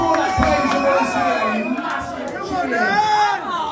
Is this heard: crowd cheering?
yes